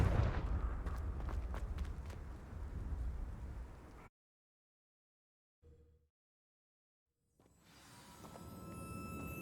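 Hogwarts Legacy Confringo spell blast: a rumbling, booming burst that fades, cuts to near silence with a faint brief thud, then a swelling ambient roar returns.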